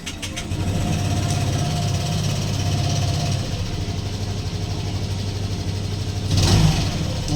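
Honda Click scooter engine starts up and settles into a steady, close-up idle, a low continuous hum with a brief louder rev near the end.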